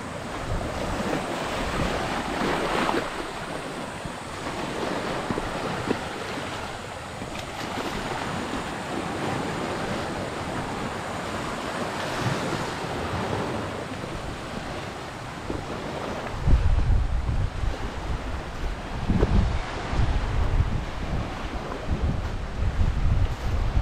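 Ocean surf rolls in continuously under gusty wind buffeting the microphone, growing louder and rougher toward the end.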